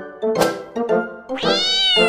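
A cat gives three loud, close meows during a dog attack, the last one long and drawn out, with no talk over it.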